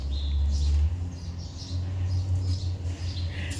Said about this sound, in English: It is actually birds flying all around over here. If y'all can hear them chirping.